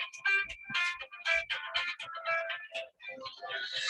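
A phone rings with a melodic ringtone, repeating bright tonal phrases continuously at moderate volume, close by and without talk over it.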